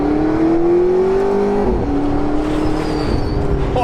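Blue McLaren 650S Spider with the roof off accelerating hard, its engine note climbing steadily in pitch up close before a brief gearshift dip, then pulling on loudly and continuously.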